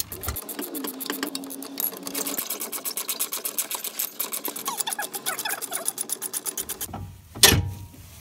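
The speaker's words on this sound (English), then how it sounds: "Now she's removing the three 19 millimeter bolts on the control arm." Bolts on the lower control arm of a 1993-2001 Toyota Camry are being spun out with a rapid power tool, a steady mechanical whirring rattle for several seconds, then a louder clunk near the end.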